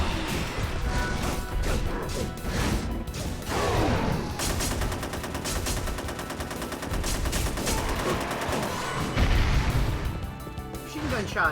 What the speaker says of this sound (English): Machine gun shot is pretty great.